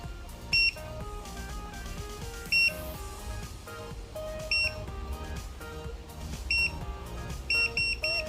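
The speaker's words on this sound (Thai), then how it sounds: "ก็จะมีเสียงติ๊บติ๊บนะคะ เพื่อบอกเวลาว่าผ่านไปกี่วินาทีแล้ว" Short electronic beeps from a My dearie automatic hair curler's timer, a few single chirps spaced apart then a quicker run of repeated beeps near the end, sounding over a soft background of music.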